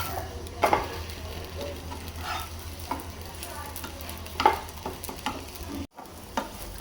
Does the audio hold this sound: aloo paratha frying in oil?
yes